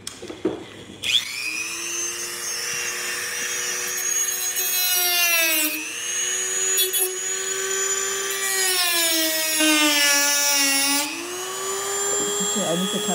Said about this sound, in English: So we're gonna use the Dremel just to remove, you know, all that.